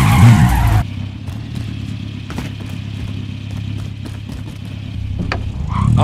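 A car drives in the Call of Duty Warzone video game: a loud burst at the start drops into a steady, low engine drone that runs evenly to the end and swells slightly in the last second.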